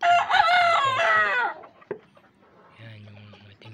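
A rooster crows loudly up close, followed by softer clucking from two-month-old red chickens, with low rumbling noise in the background.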